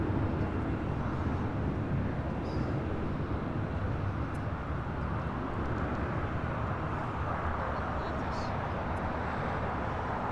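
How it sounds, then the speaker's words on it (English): A heavy Airbus A330 airliner on short final to runway 24 left at LAX gives off a steady, loud, broadband jet roar that holds unchanged from start to finish. "Heavy Airbus 332 short final, the wind 220 at 8, runway 24 left"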